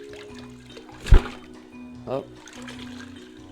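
Water poured with too much force splashes and splatters in one sharp burst, followed by a smaller splash a second later, over quiet background music while a voice briefly exclaims.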